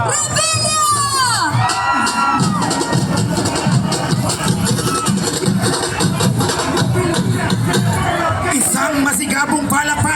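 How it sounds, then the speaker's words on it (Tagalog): Loud crowd cheering at an outdoor political campaign rally in Mandaluyong City for Senator Bong Revilla, with sustained shouting, whoops and babble at full level throughout and higher voices rising at the start and near the end. "Malakas na sigawan muli para kay Senator Bong Revilla!"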